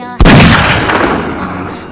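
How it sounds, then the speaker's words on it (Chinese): A single loud starting-gun shot fires to begin a marathon in Sakura School Simulator. It cracks sharply out of near silence, then a booming tail slowly dies away. "枪声一响，大家一股脑往前冲"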